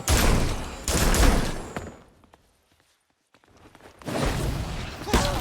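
Rapid gunfire bursts in the Gotham Knights video game, two loud volleys separated by a near-silent gap before the shooting resumes.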